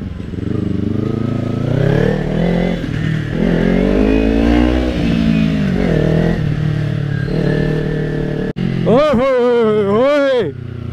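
A motorcycle engine revs hard and climbs in pitch through several gear pulls, loud and close, ending with a sharp high rev after a brief cut.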